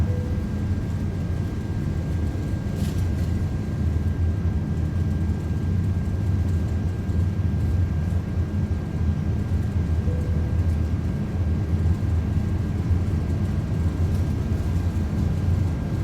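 Airbus A330-200 engines at takeoff thrust in a flight simulator, a steady, continuous broadband roar with a low rumble and a faint high whine, even and unbroken throughout.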